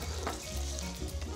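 Hot pot meat slices stir-fry in a little oil in a wok, a close, steady sizzle with soft scraping stirs and no talk.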